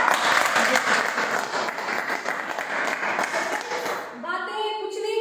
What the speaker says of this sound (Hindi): हम चाहेंगे अभिषेक जी के लिए जबरदस्त ताली से